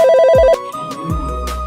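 A phone rings with a repeating electronic ringtone melody, loud and near, then cuts off and is followed by low thuds and quieter background sounds.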